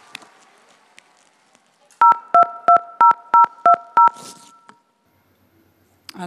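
A telephone keypad is dialed on a live music show: seven loud, close touch-tone beeps in quick, even succession, with quiet room noise before and after.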